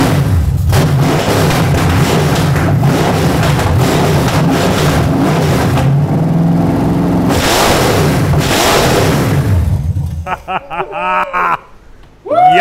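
A Pontiac Firebird engine starts and roars loudly, revving hard and continuously with rough bursts of acceleration before cutting out; a few voices call out at the end.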